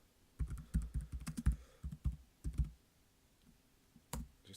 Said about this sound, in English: Type that in.